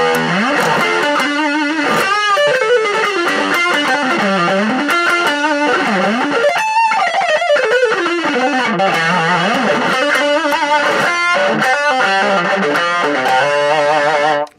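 An electric guitar played through an Orange mini amp with a Tube Screamer overdrive pedal engaged, giving loud, continuous distorted lead lines with bends and slides, alone without talk.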